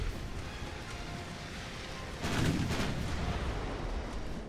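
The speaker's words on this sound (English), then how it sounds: "And I can still fire all of my guns." Warship guns fire in the naval video game Ultimate Admiral Dreadnoughts: one deep, booming salvo rises out of a steady rumbling game background and lingers briefly.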